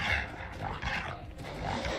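A dog barks and growls within the game audio of an esports video game match, a short, busy burst set against dense, continuous gameplay noise.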